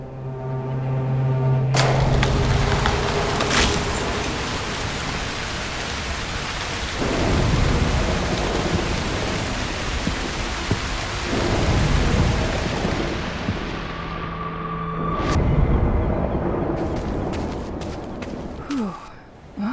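A thunderstorm with heavy rain from the video game Broken Pieces: dense, steady downpour with deep rolling thunder building and fading throughout, plus a few sharp cracks near the end.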